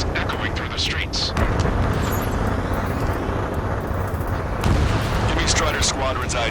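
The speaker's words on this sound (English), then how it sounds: "gunfire and the roar of jets echoing through the streets" Heavy gunfire and roaring jet engines in Ace Combat 7 rumble through a city under martial law at night, a dense, constant low roar with sharp bursts layered on top, loud and unbroken throughout.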